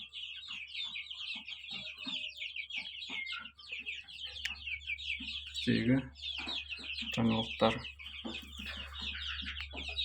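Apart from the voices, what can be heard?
chicks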